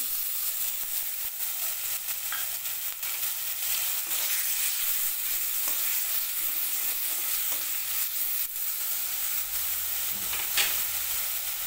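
Spice paste frying and being stirred in a pan with already browned onions, for a prawn dish with elephant foot yam stalks. A steady loud sizzle runs throughout with scraping stir strokes, close up and with no talk.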